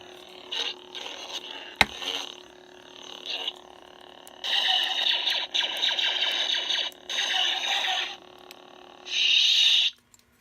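An Anakin Revenge of the Sith lightsaber sound font: electric hum with swooshing swings and bright buzzy clash bursts, several segments separated by brief pauses.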